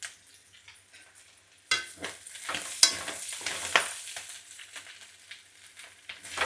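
Biryani masala with chili powder being stirred and fried in a pan: a close, soft sizzle with repeated scraping strokes of a spoon, starting faint and growing busier after a couple of seconds.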